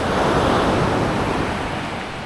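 Ocean surf washes steadily onto a beach at Cabo Blanco, Costa Rica, a loud continuous roar of breaking waves mixed with some wind buffeting the microphone, with no voices.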